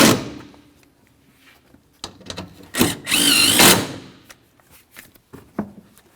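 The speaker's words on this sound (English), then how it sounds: "Let's tighten up our 2 10mm headed mounting bolts now." A power tool tightens two 10mm mounting bolts on the fan shroud of a 1999-2006 Chevrolet Silverado 1500, with a short loud whirring burst amid clanks and handling knocks.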